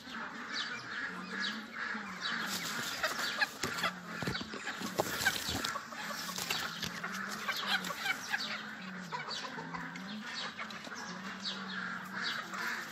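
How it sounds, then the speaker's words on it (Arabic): A flock of Shamo chickens clucks and murmurs continuously around an orange tree, with overlapping low calls and sharper bursts, fairly near but quiet, and no one speaking over them. "فراخ شامورت."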